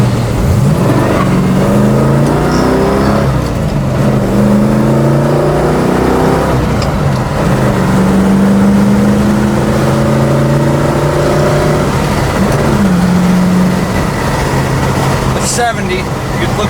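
A 1967 Mercury Cougar XR7 engine roars steadily as the car accelerates at speed, with a droning, rising pitch and loud wind and road noise, while someone talks over it.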